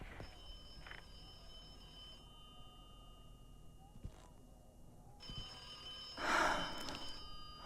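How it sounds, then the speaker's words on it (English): In The Occupation video game, a telephone rings faintly in a quiet room, with a few brief bursts over low background hum and a louder rustle near the end. "I missed a phone call from Michael that night."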